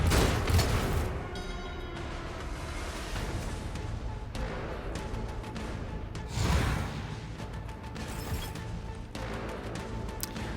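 A burst of gunfire in the Warhammer 40K game Rogue Trader, set during a riot on a prison planet: several sharp, clattering shots and crashes ring out over a steady combat din, with no voices.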